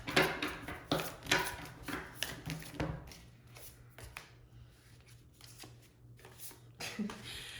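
Tarot cards are shuffled by hand in quick, close riffling bursts and soft slaps, tapering to lighter shuffling sounds after a few seconds.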